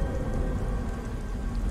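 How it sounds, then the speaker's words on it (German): Steady rain in the video game Beyond: Two Souls, a continuous hiss of falling water at moderate level with no pauses and no voices. "Gottverdammter Regen."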